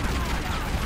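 Gunfire in the Tomb Raider: Legend video game, a brief dense burst of rapid shots, loud and continuous for under a second.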